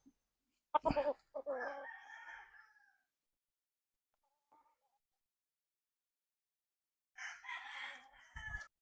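A Gary Gilliam Roundhead gamecock stag, eight months old, crows in two separate bursts, a long call near the start and another near the end, with near silence between.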